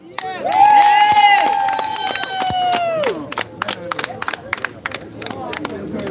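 A crowd gathered in Barbican Square claps and cheers loudly, with a long sustained shout rising over the applause, then the cheering fades into sharp, scattered claps while people talk.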